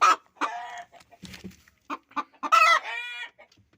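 A farmyard rooster gives short guttural calls while hens cluck around it, a run of close, uneven bursts with brief pauses between them.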